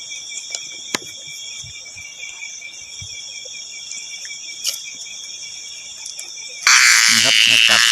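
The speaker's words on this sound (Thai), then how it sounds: "นี่ครับถ้าจับเขาจะร้องแบบนี้นี่ครับ" A night cicada, caught by hand in the dark, gives off a steady high buzz over faint outdoor insect noise with occasional clicks, then breaks into a sudden loud, harsh rasping squawk near the end.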